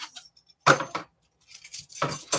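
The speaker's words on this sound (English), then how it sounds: "My knives." Kitchen knives clinking and clattering as they are handled and put away, a few short bright metallic bursts separated by quiet pauses, close by.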